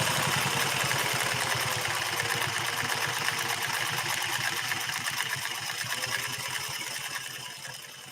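A Singer 401A sewing machine stitches steadily, its fast, even mechanical chatter running close and loud for the whole stretch, easing slightly toward the end.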